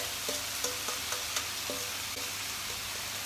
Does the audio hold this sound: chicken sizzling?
yes